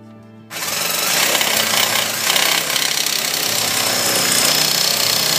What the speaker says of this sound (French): je vais prendre la scie sauteuse pour que ça soit plus rapide